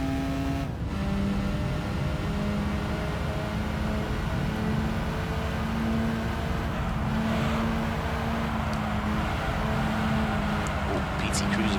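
A race car engine droning at a steady pitch in the video game Gran Turismo 3, racing against a PT Cruiser and a BMW, loud and continuous with the tone slowly shifting and no break.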